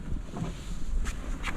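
Cold, gusty wind buffets the microphone on open water beside a canoe yawl, a low continuous rumble with a couple of brief hissing surges.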